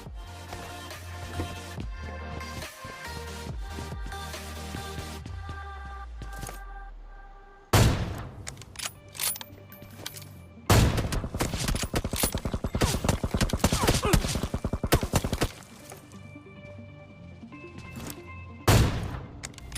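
Rapid automatic gunfire sprays from the PUBG video game, loud and near, in dense sustained bursts with short gaps between them. No one speaks over the shots.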